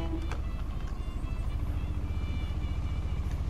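Car engine in the Jurassic World Evolution video game, a steady low rumble running throughout at moderate distance, with faint game ambience layered above and no talk.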